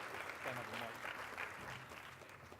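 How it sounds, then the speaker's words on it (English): Audience applause at a city startup pitch competition final, steady and moderately faint across the whole stretch, with voices murmuring underneath. "Give me a round of applause."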